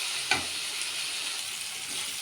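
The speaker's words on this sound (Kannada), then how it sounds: "ಈರುಳ್ಳಿ ಈ ಥರ ಫ್ರೈ ಆದಮೇಲೆ 1-2 ಟೊಮೊಟೊ, ಇದನ್ನು ನೀಟಾಗಿ ಫ್ರೈ ಮಾಡ್ಕೊಳ್ಳೋಣ" Onion and tomato frying in a pan for idli sambar, a steady close hiss of sizzling with a brief clink or stir near the start.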